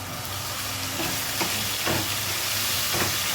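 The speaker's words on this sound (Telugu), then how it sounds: "ఇప్పుడు ఇందులో అల్లం వెల్లుల్లిపాయ పేస్ట్ వేసేద్దాము. టమాటా పేస్ట్," Ginger garlic paste and tomato paste fry in a pan, giving a steady close sizzle with faint stirring scrapes and no voices.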